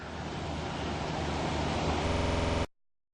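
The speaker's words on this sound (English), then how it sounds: "that's the beautiful Oregon coast as it goes down along the beautiful seashore with the waves crashing" Broadband roar of surf crashing along the Oregon coast seashore, a steady loud wash of breaking waves with wind, continuous for about two and a half seconds before cutting off abruptly.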